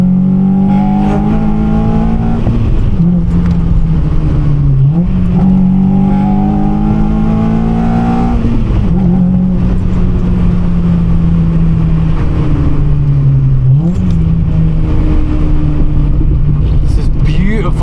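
A car engine revs hard through repeated gear pulls while overtaking on a road, a loud droning roar rising in pitch, dropping at each shift, then climbing again, with people talking over it inside the cabin.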